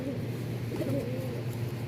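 A low, rolling pigeon coo rises and falls up close, steady and unbroken across the short stretch, with no speech over it.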